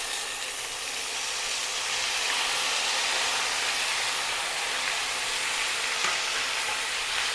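Cut, washed potatoes go into a hot pan with onions for a Kerala potato mezhukkupuratti, giving a steady, close, loud sizzle and frying hiss with faint stirring scrapes and no talking.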